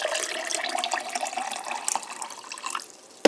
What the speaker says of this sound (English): Then after that, you pour in the lemonade.